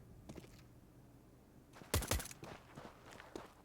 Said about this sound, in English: You can hear the footsteps of your Fleerax.